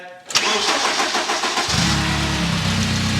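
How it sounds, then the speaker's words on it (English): A car engine cranks briefly and catches, then settles into a steady mid-pitched idle close by, the start made out of gear before air-conditioning work with R134a refrigerant. "So Dan, go ahead, start the car"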